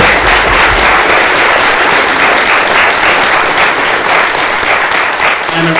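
A room of attendees gives a big round of applause to panelists after a panel discussion, loud sustained clapping from many hands at an even level, with no talking.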